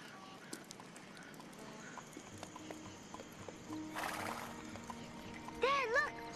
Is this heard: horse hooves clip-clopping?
yes